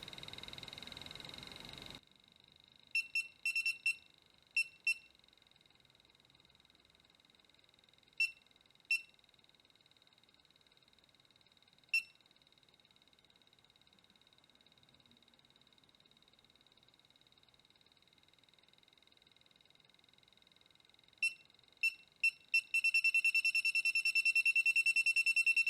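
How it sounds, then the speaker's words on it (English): A green EMF meter near an extension cable emits loud, shrill electronic beeps, first in sparse isolated pips, then a rapid run of beeping near the end, over near silence. "This device is also very annoying to use because of the loud beeps that cannot be turned off."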